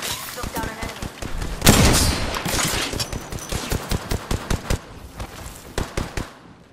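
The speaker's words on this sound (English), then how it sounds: "Getting shot at. Opening fire." Rapid gunfire in the Apex Legends video game: dense bursts of shots, a heavy volley near the middle, then evenly spaced single shots and short bursts that stay loud and close throughout.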